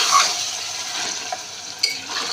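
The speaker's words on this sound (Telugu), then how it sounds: "కలిసే వరకు ఇలాగా కలుపుతూ ఉండాలి" Broiler chicken is stirred in a pot as it cooks for a curry, with a close, steady sizzle and a couple of brief scrapes of the spoon against the pan.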